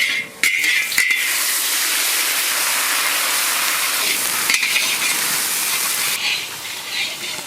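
Onion with cumin and garlic paste frying in a pan, a loud steady sizzle with stirring scrapes and a few sharp clinks, continuing alone without talk.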